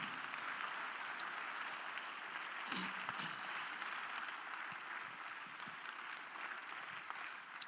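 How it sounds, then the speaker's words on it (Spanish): A church congregation applauds during a Spanish-language Sunday school service, a steady, moderately distant wash of clapping that holds evenly throughout. "Démosle un aplauso fuerte al Señor Jesucristo."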